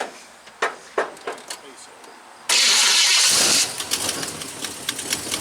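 The engine of the '78 is started for the first time in two years: a run of cranking clicks, then a loud sudden catch that roars for about a second before settling into a rough running sound, with voices nearby.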